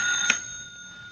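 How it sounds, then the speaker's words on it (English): A telephone rings in an old-time radio drama: a short, sustained metallic ring with a brief sharper burst near the start, heard alone. "That ringing noise is back in my skull. You're a ham bone. That's the telephone."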